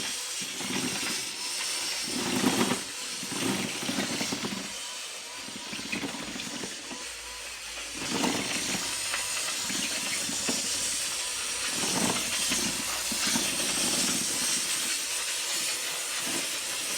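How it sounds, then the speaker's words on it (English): Hotpoint steam vacuum cleaner giving off a constant broad hiss of released steam, with bursts of louder rushing noise at intervals throughout and no talking. "You can see the steam coming off it."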